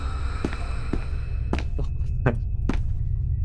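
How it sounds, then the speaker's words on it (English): Body falling from the ceiling sound effect in the video game SCP Containment Breach, heard as a couple of dull thuds followed by several sharper impacts over a low, steady rumble. "It played like the body falling from the ceiling sound effect"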